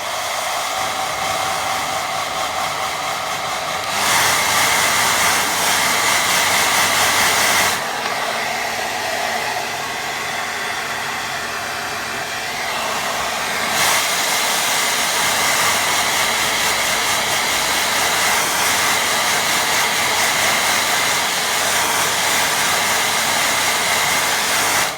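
A hair dryer blowing over a watercolour lake painting, a steady loud whooshing hum held for a long stretch, its pitch and level shifting slightly as it moves, with no talking.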